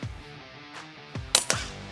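A rimfire rifle fires at a target 25 meters away on a PRS rimfire range: one or two short, sharp cracks that are moderately loud, near the end, over a quiet background.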